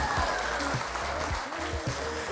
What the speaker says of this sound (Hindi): इनके लिए बहुत सारी तालियां